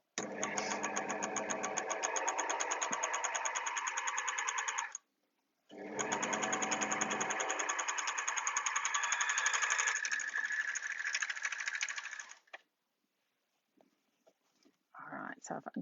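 Overlocker sewing machine stitching fabric runs in two long, steady buzzing bursts of rapid needle chatter, loud and close, separated by a brief pause, then stops; faint handling clicks and a short soft voice-like sound follow.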